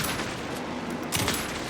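Sustained rapid gunfire in the Alan Wake II video game during the Scratch boss fight, a dense continuous fusillade with a brief louder surge near the end.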